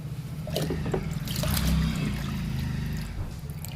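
Liquid fertilizer pouring onto an indoor houseplant, a steady close trickle of liquid running for a few seconds with a slightly louder gush in the middle, no voices.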